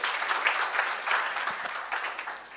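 Delegates at the Surgical Society of Kenya annual scientific conference give a doctor a brief round of applause, a dense patter of clapping filling the hall at moderate loudness for a couple of seconds.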